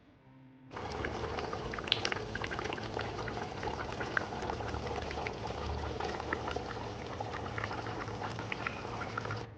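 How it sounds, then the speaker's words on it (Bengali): Egg curry simmering in a pot, a steady bubbling boil with rapid liquid patter that starts abruptly and holds at an even level throughout, no voices. "ঝোলটা একটু ফুটুক"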